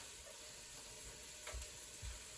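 Onions and vegetables sautéing in a soup pot give a soft, steady sizzle with a few low stirring thumps, quiet and close, with no talking.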